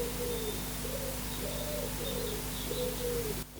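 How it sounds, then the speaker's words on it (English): A pigeon coos just outside a window in a run of soft, low rolling calls, repeated about four times over a steady background hiss. "There is a pigeon outside of my window."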